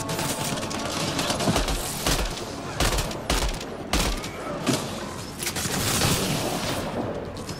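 Gunfire in the video game Mass Effect: Andromeda: repeated bursts of shots and booms in a busy firefight, loud and uneven across the stretch with brief gaps between volleys.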